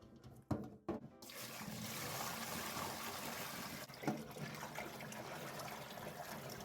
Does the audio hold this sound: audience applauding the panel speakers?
no